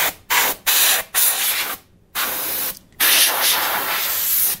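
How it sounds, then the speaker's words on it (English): Canned air sprays in short bursts onto the saddles of an Epiphone Les Paul Custom guitar, a close, loud broadband hiss with several quick blasts followed by a longer sustained spray. "the canned air works really well for the saddles"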